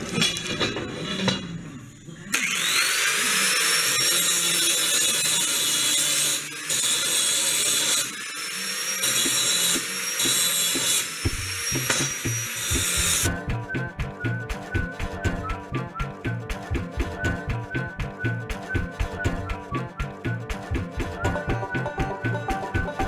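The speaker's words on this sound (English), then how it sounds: "Now I gotta grind a bevel in these edges here" An angle grinder bevels the edges of steel pieces for a sheep corral guillotine gate, with a loud sustained whine and rough grinding that shifts pitch as pressure changes, then a harsher stuttering, chattering grind toward the end.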